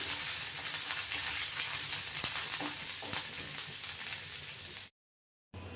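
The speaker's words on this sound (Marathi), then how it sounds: "चांगला खरपूस भाजून घ्यायचा कढीपत्ताही" Steady, close crackle and sizzle of curry leaves roasting in a dry pan, continuous for several seconds before a brief cut to silence.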